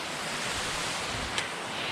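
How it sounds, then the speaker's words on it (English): Waterfall on a snowy mountain trail, a steady broadband rush of falling water heard close, with no voices over it. "So this waterfall right here is one of the"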